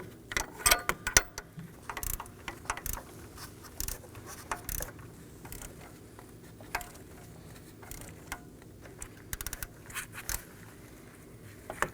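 A ratchet snugs down the high-pressure fuel pump bolts on a 1.5L four-cylinder Chevrolet Equinox, giving bursts of close, quiet clicking with small metallic taps between them.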